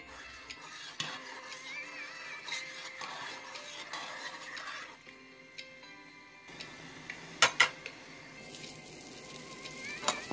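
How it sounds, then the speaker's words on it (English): A spoon stirs sugar into vinegar pickling liquid in a pot for ginger, giving quiet repeated scraping and ticking against the metal, with a soft sizzling hiss and a few sharper clinks near the end. "you need to stir it well until it dissolves"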